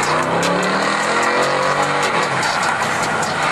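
BMW in Sport Plus mode with a sport exhaust, revving hard and loud up close, a continuous rising engine note that climbs then settles back over a few seconds, with no one speaking.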